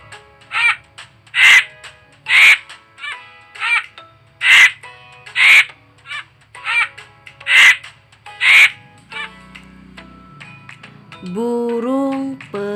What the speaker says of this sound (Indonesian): Burung bangkai.